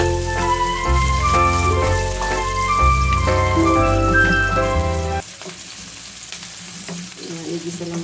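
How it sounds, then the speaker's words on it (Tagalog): Chopped large onions sauté in a hot pan for pancit bihon, a steady sizzle running under background music that cuts out after about five seconds, leaving the frying alone and quieter. "Ayan, igisa lang natin para malasa."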